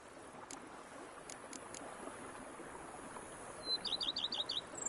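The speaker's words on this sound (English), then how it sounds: "Bees buzzing, birds chirping." Small birds chirp in a quiet outdoor scene in The Witcher 3, with a few short, faint high calls early on and a quick rapid run of tweets near the end over soft ambient background noise.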